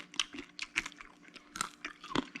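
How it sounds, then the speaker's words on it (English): Close crunching bites and chewing of crispy fried pork belly skin, lechon kawali, with a quick irregular series of crisp cracks and crackles, no talking. "You can hear the crunchiness of that skin."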